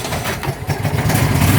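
A 225 motorcycle engine, warm after a jump start, catches and runs with a loud, close, rough idle that builds slightly over a brief moment.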